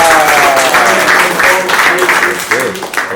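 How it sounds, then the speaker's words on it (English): An audience at a workshop on defeating anxiety claps in a sustained round of applause, loud and close, with a voice speaking over the clapping. "applause! Thank you, take a seat."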